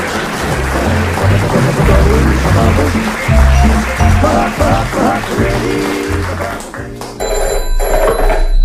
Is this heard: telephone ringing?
yes